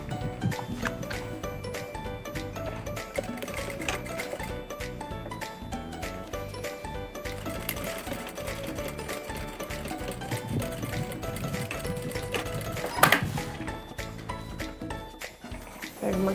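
A sewing machine stitches a seam on a handmade bag in a steady mechanical whir with rapid needle ticks, continuing for a long stretch with a brief louder clack midway.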